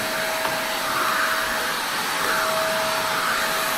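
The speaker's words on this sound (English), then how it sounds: "the vacuum cleaner is getting plugged up again because it's starting to have some weird sounds when I'm sucking it" A vacuum cleaner sucks steadily while cleaning out a grain dryer, its clogged intake giving a continuous, loud, slightly strained whine with a faint tonal hum throughout.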